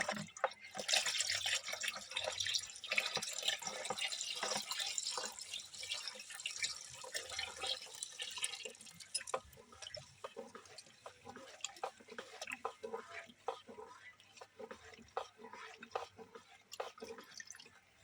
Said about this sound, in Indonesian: jadi saya sambil aduk, airnya dimasukkan.